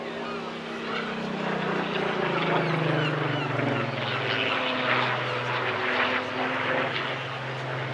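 A Supermarine Spitfire Mark 19 with a Rolls-Royce engine flies at a seaside airshow, heard as a steady, full propeller-engine drone whose pitch shifts slowly as it passes, loud and continuous throughout.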